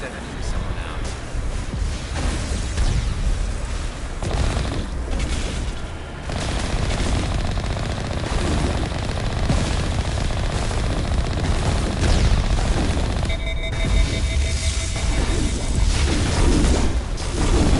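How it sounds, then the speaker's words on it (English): Continuous gunfire in Mass Effect Legendary Edition, a steady rattle of automatic weapon bursts and booming impacts running throughout, with a brief tonal beeping midway and game speech mixed in. "Stop firing at me anytime now."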